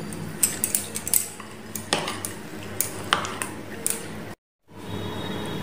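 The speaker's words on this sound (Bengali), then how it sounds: "ভাজা বাদাম আমি এইরকমভাবে টুকরো করে নিয়েছি, এটা মিশিয়ে দিচ্ছি এর মধ্যে" A spoon stirs chopped roasted peanuts into an ice cream mixture in a bowl, making close, irregular metallic clinks and scrapes in short bursts, followed by a brief silence and then quiet room noise.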